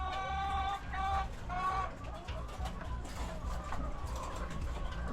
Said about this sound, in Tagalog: yan yung update sa aking mga lagang manok na decaled white